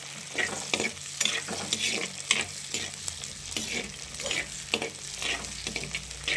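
Garlic and small onions sautéing in a pan for a garlic curry: a continuous close sizzle is broken by repeated rhythmic scrapes and knocks of a spoon stirring against the pan.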